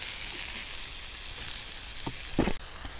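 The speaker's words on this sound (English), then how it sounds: "Let these mushrooms just soak up all that bacon grease." Mushrooms sautéing in bacon grease on a Pit Boss tabletop griddle, a loud continuous sizzle with a few spatula scrapes and taps near the end, close up, no talking.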